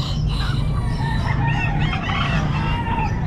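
Hens and other chickens at a busy poultry and pet market cluck and call constantly, with overlapping crowing-like cries close by over a dense, noisy background of the market.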